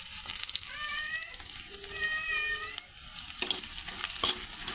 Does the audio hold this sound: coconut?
yes